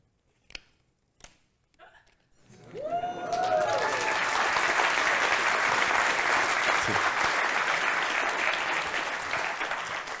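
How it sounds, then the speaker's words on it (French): After a few isolated claps, a conference keynote audience breaks into sustained, loud applause that carries on to the end, with a brief whoop-like vocal sweep near the start of the clapping. "vous applaudissez un certain travail, une dextérité"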